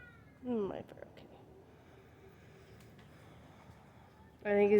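A cat meows twice, a short wavering call near the start and another at the end, with quiet room tone and faint background in between, up close and fairly soft.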